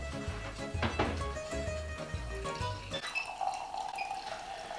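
A pot of marinara sauce set back on the stove, with metallic clinks and clunks of the pot against the burner grate, close up, followed by quieter shuffling.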